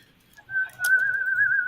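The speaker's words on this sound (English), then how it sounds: "you sound like Tom and Jerry, one of those cartoons or something, where they got a perfect whistle" A person whistles a single clear, sustained, slightly wavering note, close and fairly loud, after a brief quiet start with a faint short chirp.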